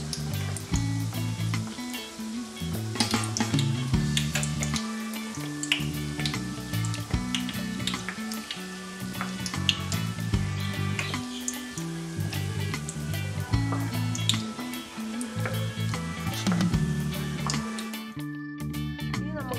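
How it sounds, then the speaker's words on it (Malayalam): Donut dough frying in hot oil gives a steady, crackling sizzle that runs throughout, heard under background music. "അപ്പോൾ നമുക്കിതിനെല്ലാം വറുത്തെടുക്കാം."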